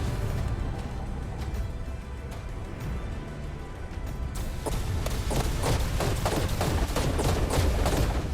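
Gunfire during a mech and Beta King Titan fight in ARK Extinction: dense, continuous rapid shots under a loud, rumbling battle din that grows heavier partway through.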